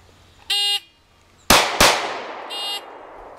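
Two sharp, loud shots from a Smith & Wesson M&P Shield pistol crack in quick succession, each ringing off briefly. A shot-timer beep sounds before and after them.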